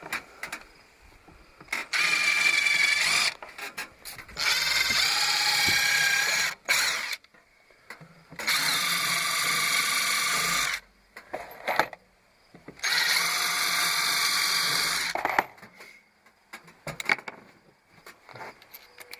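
Power drill driving screws into a solar air heater frame: three long whirring bursts of several seconds each separated by pauses, close and loud, with small handling clatter between runs and no speech.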